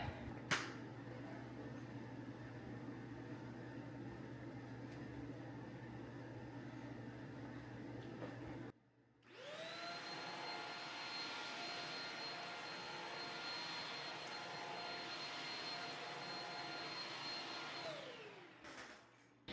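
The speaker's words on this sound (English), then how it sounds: "Let's vacuum it." After a low steady hum, a vacuum cleaner switches on with a loud whirring roar on a washable rug, runs steadily, then winds down.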